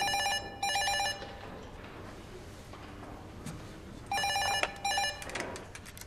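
An old-style telephone bell rings in two short bursts, then rings twice more after a pause of quiet room tone, loud and close in an office at night.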